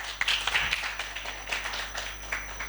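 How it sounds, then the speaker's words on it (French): An audience at a school quiz show between two secondary schools applauds, a short burst of scattered clapping with some cheering in a hall, moderately loud and fading slightly. "Sous vos applaudissements, s'il vous plaît."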